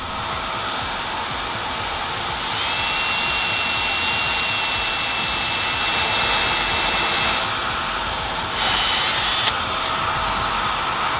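A small vacuum whines steadily with a high-pitched, constant whir that runs unbroken for several seconds, loud and close.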